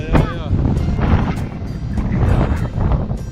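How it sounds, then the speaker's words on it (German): Strong wind buffets the microphone aboard a sailing yacht, a loud continuous rush with water noise underneath while a family talks over it. "Windy."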